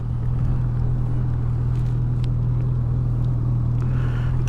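A Honda CB1000R Black Edition motorcycle idles in neutral, a steady low engine hum heard close with faint wind and handling noises around it.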